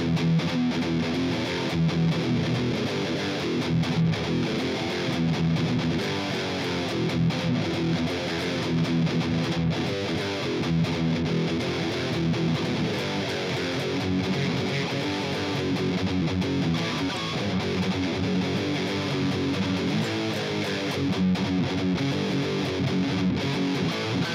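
A heavily distorted electric guitar chugs through a steady, driving verse rhythm from a song, loud and continuous for the whole stretch.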